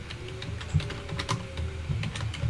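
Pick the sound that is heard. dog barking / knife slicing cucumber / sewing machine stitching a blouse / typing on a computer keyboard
typing on a computer keyboard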